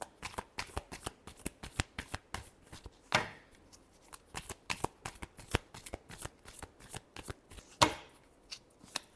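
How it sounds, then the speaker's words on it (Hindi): A tarot deck shuffled by hand, a long run of dense, close card flicks and riffles, with a couple of heavier slaps, continuous and unaccompanied by speech. "Last shuffle."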